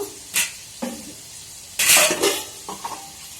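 Potatoes and onions frying in a pan, with a few loud bursts of sizzling and scraping from stirring, spread out over quiet gaps.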